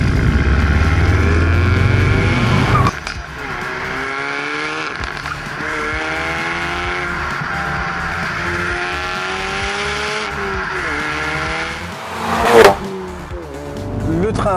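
A 2016 Ford Focus RS driven in sport mode, its engine revving loudly with rising and falling pitch through gear changes, a sharper burst near the end, heard alone without talk.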